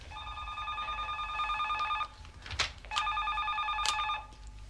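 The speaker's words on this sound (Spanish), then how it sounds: "¿Dónde está el teléfono?" A telephone rings indoors in two bursts of a bright, trilling electronic bell, each about two seconds long with a short gap between, over faint room noise and a few small thumps.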